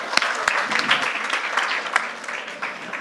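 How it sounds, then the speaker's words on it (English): Audience applause at a conference stage event, dense and continuous clapping from a large crowd, moderately loud throughout. "can I have a very big applause?"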